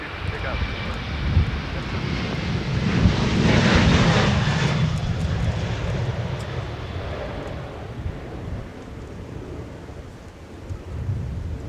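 Airbus A330neo airliner at Minneapolis–St. Paul Airport, a broad rumbling jet roar that swells to a peak and slowly fades, with faint overlapping voices.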